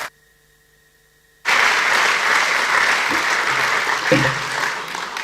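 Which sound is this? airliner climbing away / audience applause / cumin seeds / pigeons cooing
audience applause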